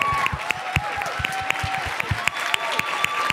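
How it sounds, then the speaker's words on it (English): A school audience claps at a Chicago military academy event, a quick run of sharp, fairly close handclaps in an even rhythm, with a faint voice underneath. "Let's give them a big round of applause."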